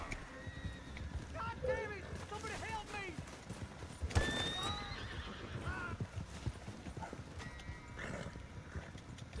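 Horse in the Red Dead Online video game whinnies in rising and falling calls over a steady clip-clop of hooves, with a brief sharp burst midway and low voices in the background.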